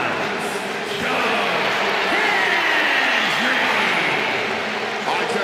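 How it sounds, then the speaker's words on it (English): An arena crowd in WWE 2K26 roars continuously for Joe Hendry's entrance, a dense and loud wall of cheering and whoops with an announcer talking over it. "The crowd becomes unglued every time this man makes an appearance."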